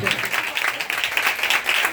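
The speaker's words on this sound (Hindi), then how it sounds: "ताली बजा जोर से यीशु मसीह के नाम से।" A congregation claps loudly during a Sunday church service. The clapping is brisk, continuous and fairly close, with a preacher's voice speaking over it.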